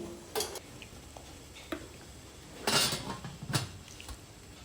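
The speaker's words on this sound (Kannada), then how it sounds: "ಇವಾಗ ಗಿನ್ನಲಿಗೆ ಅರ್ಧದಷ್ಟು ಹಿಟ್ಟನ್ನು ಹಾಕಿ ಇಡ್ಲಿ ಪಾತ್ರೆ ಒಳಗೆ ಇಟ್ಟು ಮುಚ್ಚಳ ಮುಚ್ಚಿ" Metal idli moulds filled with coconut idli batter set into a steamer pot and its lid closed, a few sharp clinks and clatters of metal against metal with quiet gaps between.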